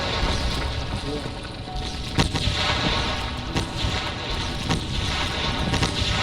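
Tank cannon fire in a Roblox video game, heavy booming shots over a constant roaring rumble of battle noise, a few louder blasts standing out.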